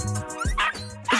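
A puppy giving a few quick high yips and whimpering barks in close succession, loud and close, in a playful indoor setting with a giant toy dollhouse.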